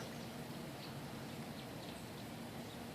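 Steady, dense rain hisses continuously, with scattered droplet patters and no voices, close and fairly loud throughout.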